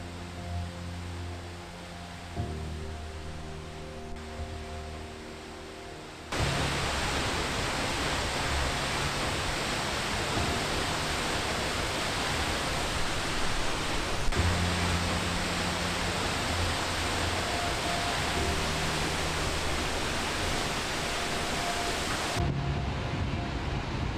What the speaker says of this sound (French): la première d'une longue et incroyable série de cascades.